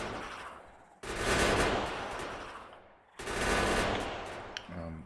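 Factorio gun turret firing at big biters, two long, loud bursts of rapid automatic fire separated by a short pause, with a brief clatter after the second burst and no talking.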